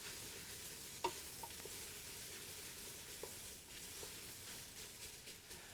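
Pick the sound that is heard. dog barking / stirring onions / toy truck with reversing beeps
stirring onions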